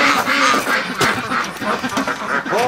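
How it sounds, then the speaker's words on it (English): A crowd of ducks quacking near icy water in extreme winter cold, loud and close, with overlapping calls running continuously throughout. "Oh, look at all the ducks in here."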